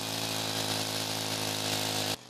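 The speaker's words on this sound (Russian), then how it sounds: "Шум бензопилы сегодня разносится над всеми водоемами страны" A gasoline chainsaw cuts a hole in frozen lake or river ice for the January Epiphany plunge. A loud, steady buzzing drone runs for about two seconds, then cuts off abruptly.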